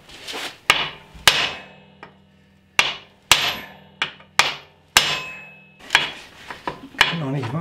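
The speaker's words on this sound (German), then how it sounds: "Jetzt nehme ich den alten Bolzen und hau damit den neuen raus." Sharp metal-on-metal hammer strikes ring out as an old bolt is used to drive a new bolt out of a Toro Greensmaster 3250 D mower, about a dozen irregular close blows, each with a brief ringing decay.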